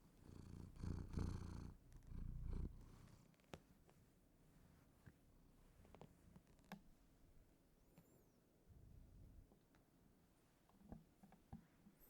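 A cat purring very softly close to a microphone, a faint low rumble that swells in two louder stretches early on, then continues quietly with scattered small ticks and rustles; no talking.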